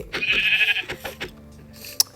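Sheep in the video game Minecraft give a loud, wavering bleat, followed by a few short clicks and thuds and a sharp tap near the end.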